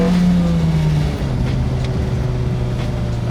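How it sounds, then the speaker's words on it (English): A Toyota AE86 engine held at steady revs in fourth gear, a loud continuous drone with a sustained tonal hum and slight pitch shifts, close to the microphone, no talking. "Let's get some revs in."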